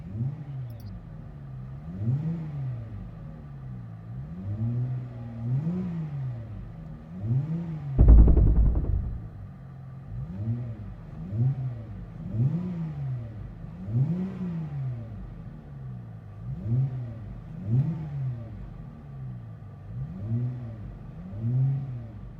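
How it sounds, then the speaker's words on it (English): Steady rhythmic revving of a 2019 Dodge Challenger SXT V6 fitted with an Xlerator stainless true dual exhaust, repeated throttle blips rising and falling in a regular pattern, with one louder thump near the middle; no talking. "Interior tone level is mild with this Xlerator True Dual Exhaust."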